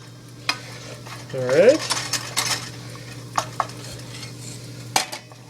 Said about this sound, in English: Anyway, so stir that up.